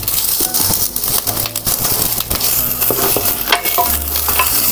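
Onion dropped into hot oil in a pan, giving a loud steady sizzle and frying crackle with stirring clatter throughout, no voices.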